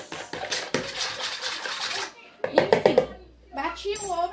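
A spoon beats an egg into chocolate cake batter in a bowl, a few quick light clinks in a short burst between stretches of a person talking nearby.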